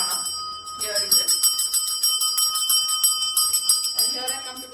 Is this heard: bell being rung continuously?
yes